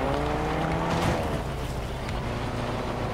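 Compact cart driven in Fortnite, a steady engine drone with broadband wind-like rush, moderately loud and continuous, no talk over it.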